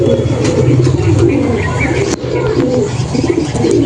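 Madras pigeons coo in repeated low, throaty phrases close by, several birds overlapping with a sharp click partway through, while a person talks alongside.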